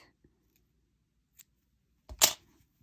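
Scissors snip through crochet yarn with one short, crisp cut close by in a quiet room, preceded by a few faint taps and handling noises.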